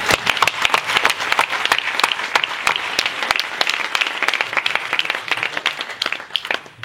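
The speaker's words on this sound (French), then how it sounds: "je vous invite à les applaudir avec moi encore une fois." Sustained audience applause at a political speech, many hands clapping densely and steadily, fairly loud, tapering slightly toward the end.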